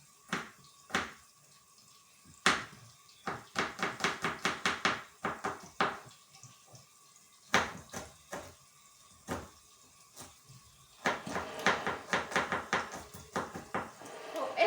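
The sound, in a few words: chopping garlic with a knife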